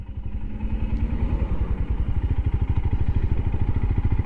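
A Royal Enfield Himalayan motorcycle on a ride, its single-cylinder engine thumping in a steady, close, loud pulse that quickens slightly as it pulls along.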